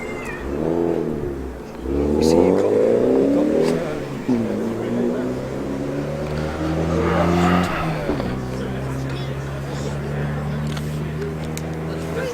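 Small vintage car at an outdoor gathering of old cars revs and drives off, its engine note rising and falling through several pulls before settling into a steady hum.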